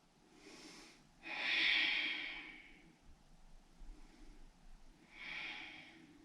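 Slow breathing during a hip-focused yoga pose, with a long soft inhale-exhale early on and another gentle breath near the end, close and quiet with low room hum between.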